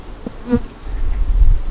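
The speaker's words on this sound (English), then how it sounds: "See all these bees up here fanning?" Honeybees buzzing and fanning close by at a hive, a steady low drone with a brief louder hum partway through, no voices.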